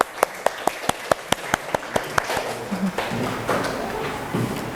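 A classroom group clapping for a group presentation: a run of sharp, evenly spaced claps in a steady rhythm for a couple of seconds, then breaking into a looser, denser wash of applause that carries on to the end.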